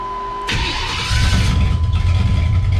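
A V8 Chevrolet S10 fitted with shorty headers cranks briefly, then fires and settles into a loud, close, throbbing idle, with no voices.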